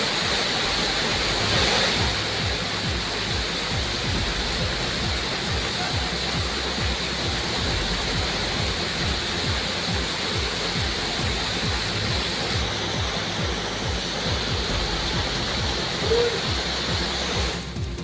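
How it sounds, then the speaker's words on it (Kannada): An overflowing reservoir waterfall during heavy monsoon rain, a loud constant roar of rushing water that stays dense and unbroken throughout, with no talk. "ಈ ಬಾರಿ ಅವಧಿಗೂ ಮುನ್ನವೇ ಜಲಪಾತಕ್ಕೆ ಜೀವ ಕಳೆ ಬಂದಿದೆ"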